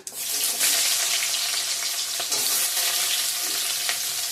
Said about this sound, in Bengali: কড়াতে তেল দিয়ে দিয়েছি গোটা জিরা দিয়ে দিলাম একটু তেজপাতা পেঁয়াজ দিয়ে দিলাম